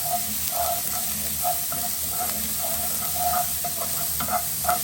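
Peppers sizzle in an uncovered frying pan with a steady, close hiss and faint crackles and pops throughout.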